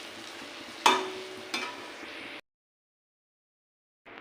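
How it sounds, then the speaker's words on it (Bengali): Palm fruit fritters fry in oil in a wok with a soft sizzle. Two sharp utensil clacks come from stirring, then the sound cuts to silence before briefly resuming. "দেখো বন্ধুরা, প্রথমবারে কড়াইতে দিয়েছি, কি সুন্দর ফুলে ফুলে উঠেছে।"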